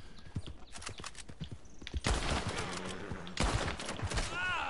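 Horse hooves galloping in Red Dead Redemption 2 amid gameplay, rapid thudding hoofbeats with loud bursts of gunfire layered over them and a whinny near the end.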